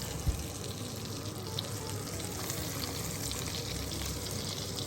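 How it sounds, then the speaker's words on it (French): Veal sweetbreads frying in hot foaming butter in a pan, a steady close sizzle that holds evenly throughout, with a small knock near the start. "On met les riz dans la poêle"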